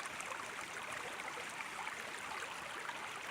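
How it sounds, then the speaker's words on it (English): A flowing creek in the Two Medicine area of Glacier, Montana, giving an even, continuous rushing wash of water, moderately close and unbroken. "I'd say this is a creek."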